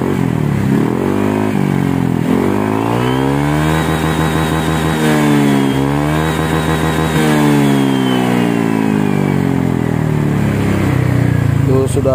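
A Honda Vario scooter with a bored-out modified exhaust revs loud and close, its note climbing steadily and holding high near the rev limiter before dropping back, with several rising and falling sweeps over a constant engine drone.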